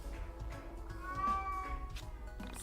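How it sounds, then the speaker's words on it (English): A screaming cat in the video game Yiik lets out a drawn-out, wavering yowl, then shorter meows, loud and clear with no talk over it. "I love that screaming cat."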